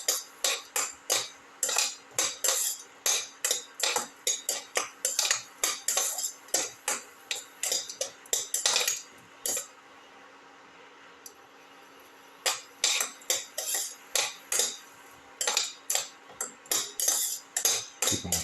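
Shallots, garlic and salt being sautéed in a pan, heard as a steady run of sharp utensil clinks and scrapes against the pan, close and rhythmic, with a brief quiet pause midway and no talking.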